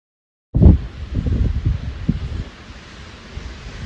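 Gusty wind on an exposed mountain summit in New Hampshire on a cold day in the 40s, a broad roaring rush that starts abruptly, buffets the microphone loudly, then eases to a steady blustery hiss.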